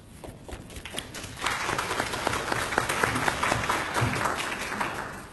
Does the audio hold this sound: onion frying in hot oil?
no